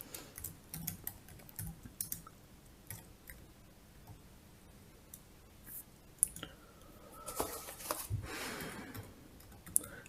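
Clicking of a computer keyboard as a description is typed, irregular bursts of close keystrokes with short pauses, faint and alone without any talking.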